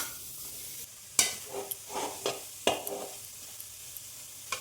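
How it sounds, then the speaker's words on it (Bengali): Grated pumpkin sizzles softly in a wok while a utensil stirs it, giving sharp scraping knocks followed by gentle repeated stirring strokes over a quiet frying hiss. "কড়াতে আমি এই কুমড়গুলো দিয়ে দিলাম গ্রেট করা"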